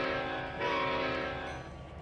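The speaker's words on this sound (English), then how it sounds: "Be a much lighter load now for our little switcher engine there." A small switcher locomotive hauls a train in the Trainz 2022 railroad simulator, giving a steady, continuous droning engine hum with a slight swell partway through and no talking.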